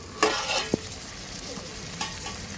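Cluster beans soften in oil in a pan, with a soft sizzle under a few sharp spatula scrapes and taps against the metal over a couple of seconds, and no one speaking.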